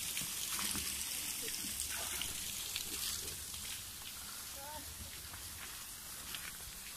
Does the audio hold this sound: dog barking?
no